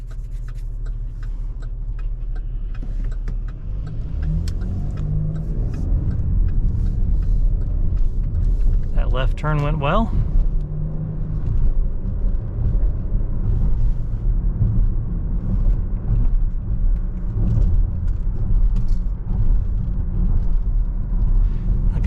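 A 2019 Chevrolet Blazer RS FWD rolls over a very bumpy road, steady low rumble of tires and cabin noise throughout with a brief rattle near the middle and a few words spoken.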